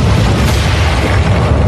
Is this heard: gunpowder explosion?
yes